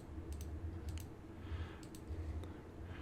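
Mouse clicks during a Victoria 2 strategy game session, a few light, sharp clicks scattered over steady low background hum, quiet and close, with no talking.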